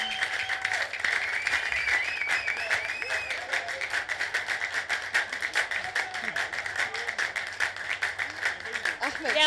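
A live audience at an Arabic evening music show claps in sustained, steady applause, loud and dense throughout with a crowd murmur beneath it, while a voice speaks over the clapping.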